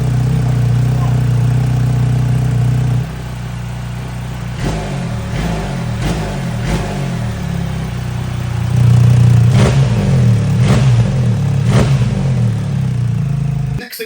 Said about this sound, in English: By flicking it down to number 2, which can be done while you're riding, it can be done while you're stationary